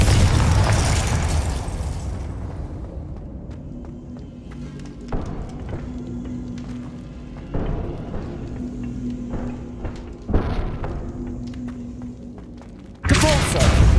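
Confringo blasting spell explosions in the video game Hogwarts Legacy, a loud burst at the start followed by several sharp thumps and pops spaced a few seconds apart over game sound.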